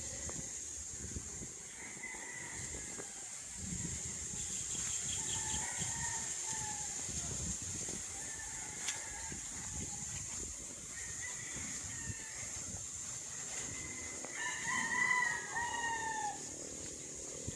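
Several roosters crowing on a flat one-hectare farm lot in the Philippines, with calls coming from mid-distance against a steady outdoor hiss. A louder burst of crowing comes near the end.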